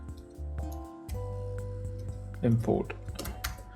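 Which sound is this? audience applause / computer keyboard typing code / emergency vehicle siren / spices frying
computer keyboard typing code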